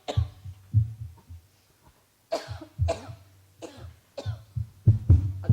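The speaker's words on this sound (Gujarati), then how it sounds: "ખાંસી બહુ છે ને શ્વાસ ચડે છે એકદમ" A person with a heavy cough and breathlessness coughs repeatedly, sometimes in single bursts and sometimes in pairs, close and fairly loud, with short pauses between.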